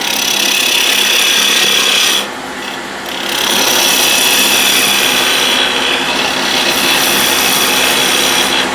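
A woodturning lathe cuts to clean up a wooden spindle, giving a loud, steady scraping rasp that drops away briefly for about a second before the cut resumes with no one speaking.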